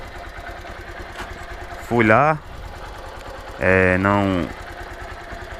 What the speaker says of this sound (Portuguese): Aí no outro dia tava com essa zoadinha no motor.